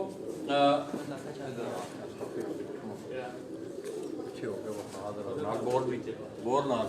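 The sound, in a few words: breeder pigeons cooing in cages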